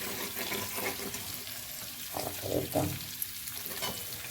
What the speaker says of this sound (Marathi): पण आता हे मसाला असा तेलात परतून घ्यायला